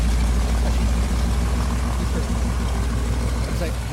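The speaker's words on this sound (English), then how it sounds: "Doesn't the sound of that engine starting just get your heart racing?" A heavy truck engine in a Wii racing game rumbles steadily at a low idle, loud and close, with a voice over it.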